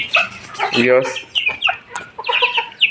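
Young chickens cheep and cluck close by in quick, shrill bursts, a busy chatter of several birds.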